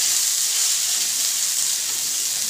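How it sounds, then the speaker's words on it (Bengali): Raisins frying in hot oil in a pan, an even, close sizzling hiss that stays steady throughout with no voices. "দেখুন কিশমিশগুলো তেলে দেওয়ার সাথে সাথে ফুলে ফুলে উঠেছে"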